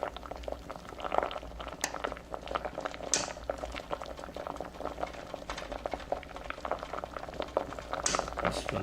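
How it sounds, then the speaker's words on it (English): Water boiling in a cooking pan, a continuous close bubbling and popping with irregular louder plops, steady throughout and without talking. "the bubble in water. Bubbly, bubbly."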